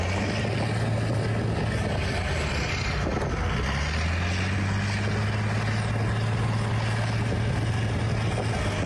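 A local resident's tractor tows a stuck bus out of the snow: a steady, loud low engine drone with a rising, straining pitch partway through, and no voices.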